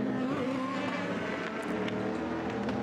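An LMP race car heads out of the pits at the Le Mans 24 Hours, its engine a steady mid-distance roar with a rising pitch over the circuit's ambient din.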